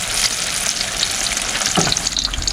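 Steady, close sizzle of eggplant frying in a pan, a continuous crackling hiss with small pops, no voices.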